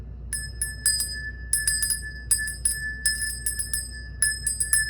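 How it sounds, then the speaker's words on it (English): A small bell rung in quick bursts of bright, ringing strikes, repeated in irregular clusters over about five seconds, close and clear above a low background hum, with no talking. "I'm gonna ring the bell."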